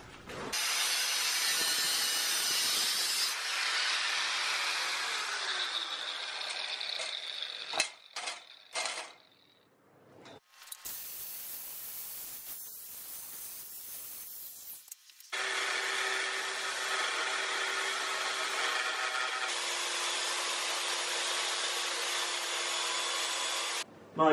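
Power sander grinding against a Red Queen sword prop, a loud steady whirring buzz that runs in long stretches, drops out briefly with a few clatters midway, then resumes strongly for the final ten seconds.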